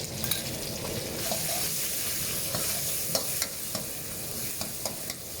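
Chili sizzling in hot vegetable oil for a Thai seafood dish, a dense continuous crackle and spatter close up with scattered sharper pops, loud and unbroken with no talking.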